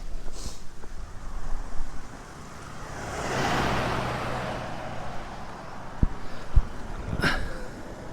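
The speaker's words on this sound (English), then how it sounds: "Starting to get windy." Gusts of wind rush and swell across the microphone on a steep street in Sydney, with a few sharp bumps and a distant hiss in the background.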